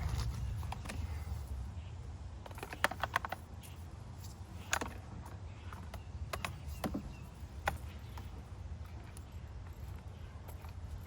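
Plastic parts of a budget $89 pressure washer's spray gun snap together in a few faint, scattered clicks over a quiet room background.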